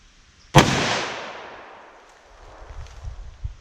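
Single sharp 10mm pistol shot with soft point hunting ammunition fired through a chronograph outdoors, a loud crack with a long fading echo, followed by faint rustling and small knocks.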